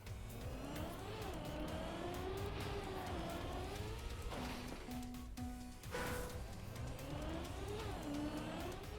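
A racing car engine in a video game revs and whines loudly, pitch rising and falling through repeated surges, with a brief steady tone partway through and no voices.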